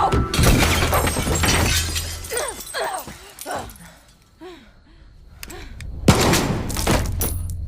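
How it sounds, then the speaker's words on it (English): A sniper rifle fires in a Far Cry 6 cinematic action scene. Loud, sharp blasts with shattering debris open and close the sequence, and raised voices are heard in between. "I'm taking the shot."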